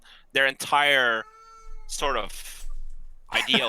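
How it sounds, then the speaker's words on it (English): A house cat meows once in a drawn-out, rising-falling cry, close to the microphone, in between bursts of someone talking. "I apologize for the cat."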